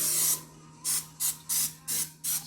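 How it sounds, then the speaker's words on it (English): Six short hissing bursts of cooking spray onto a baking pan for banana bread, close by, each lasting a fraction of a second with brief pauses between, over a faint steady hum. "Spray all along the sides"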